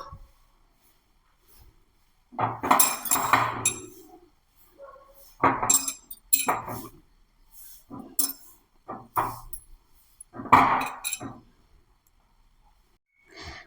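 Lemon pieces dropped into a glass pickle bottle for a fenugreek lemon pickle, a series of clinks and knocks in separate clusters, close and crisp against near silence.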